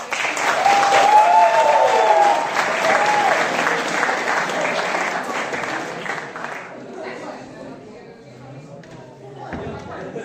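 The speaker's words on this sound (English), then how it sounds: "Please give them a huge round of applause." Loud, sustained applause from a comedy show audience with a few whoops, gradually thinning out and fading toward the end.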